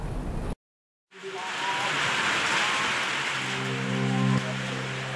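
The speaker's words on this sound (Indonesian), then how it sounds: "Warga Batanghari ucapkan syukur saat hujan deras turun di Kota Muara Pulian" Heavy rain pours down across a town in Batanghari, Jambi, as a steady, dense broadband wash that briefly cuts out near the start and then holds loud and constant, with faint background hum.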